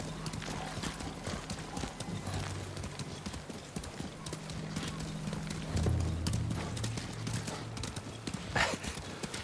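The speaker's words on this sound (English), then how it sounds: "all you hear is the horse galloping and the wildlife" A horse gallops in the video game Ghost of Tsushima, its hooves pounding in a steady, continuous rhythm with an occasional whinny, close and prominent over faint outdoor ambience.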